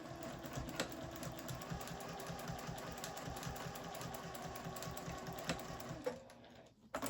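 A sewing machine back-stitches a zipper pouch: a quiet, rapid, steady mechanical clatter of stitching up close that stops abruptly near the end, followed by a couple of soft handling clicks.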